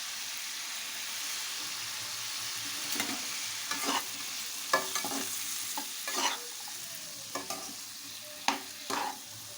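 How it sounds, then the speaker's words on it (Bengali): Washed vegetables frying in a pan with salt and turmeric powder, a steady close sizzle broken by repeated scraping stirs of a spatula at irregular intervals, with no talking. "এখানে ভেজে নেব"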